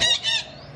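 A Thai parrot lets out two quick loud, honking squawks close by, the second tailing off into a quieter background hum.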